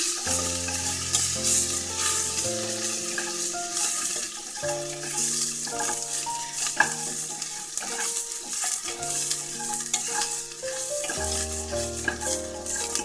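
Crushed ginger, garlic and green chilli fry in a pan for vegetable pulao, a steady bright sizzle with occasional stirring clicks, heard close under continuous background music.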